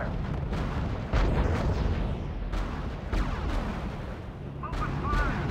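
Battle in the strategy video game RUSE: repeated booming artillery and bursts of gunfire over a dense rumbling background, with heavy hits recurring every second or so and faint voices at the end.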